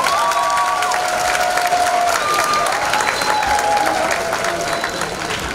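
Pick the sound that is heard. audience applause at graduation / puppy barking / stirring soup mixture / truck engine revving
audience applause at graduation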